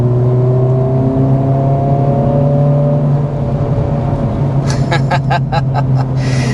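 A Honda Civic Type R in +R mode pulls along a back road, its engine note rising and shifting in pitch as it accelerates, steady cabin drone, with a few sharp clicks near the end.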